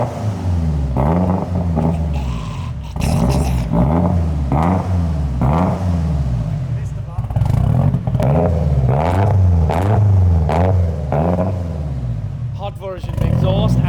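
Nissan S15 engine revving hard right after its first start, close and loud, with repeated rising and falling throttle blips and a raspy exhaust, voices talking over it.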